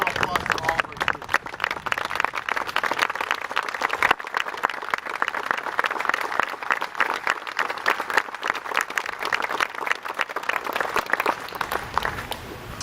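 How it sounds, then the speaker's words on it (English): An audience at a Memorial Day speech breaks into sustained applause for students, dense clapping filling the room without pause for several seconds before tapering slightly at the end. "let's give a round of applause for all of our students."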